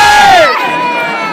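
Crowd of devotees gathered for Kanha ji (Krishna) darshan, a loud burst of shouting and cheering voices that rises sharply, then falls to a lower steady crowd murmur.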